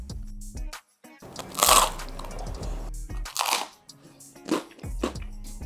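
Bites into a thick, very crunchy New York Sicilian-style pizza crust topped with Swiss, mozzarella and Parmesan cheese, giving several loud close-up crunches and crackles separated by short pauses.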